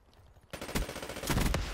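A PPSh submachine gun in a video game opens up after a brief quiet, a rapid, loud continuous burst of automatic fire with sharp rattling reports.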